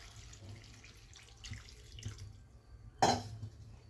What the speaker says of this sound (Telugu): ఇప్పుడు సరిపడంత వాటర్ పోసుకుందాం